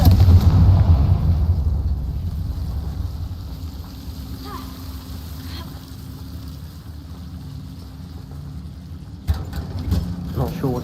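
A Confringo fire spell explodes in the video game Hogwarts Legacy, opening with a loud, deep rumbling blast that slowly fades into a low drone, with a few sharp clicks near the end.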